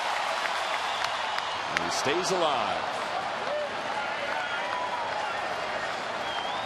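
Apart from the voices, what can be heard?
sold-out baseball stadium crowd cheering and applauding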